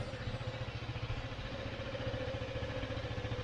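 A Vespa scooter engine keeps running steadily with a rhythmic, throbbing idle as it sits low in water while crossing a flooded green lane, heard close and alone with no talk.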